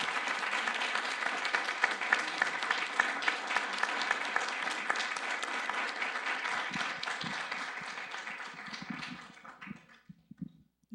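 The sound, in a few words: audience applause after a presentation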